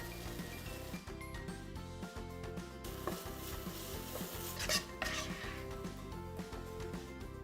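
Boiled couscous being stirred with turmeric and red chili powder in a pan for couscous upma, with soft scraping and sizzling strokes and a few light clinks, heard under a voice speaking throughout.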